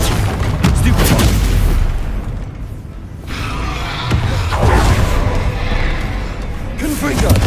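Stupefy stunning spell cast during a Hogwarts Legacy combat fight: booming magical impacts that swell and fade in waves over a continuous dense battle din, with a voice briefly heard alongside.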